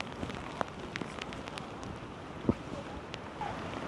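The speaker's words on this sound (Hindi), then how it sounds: "बारिश और तेज़ होती जा रही है" Heavy rain near Satara patters steadily in a constant hiss, with scattered louder drops and taps standing out over the wash of falling water.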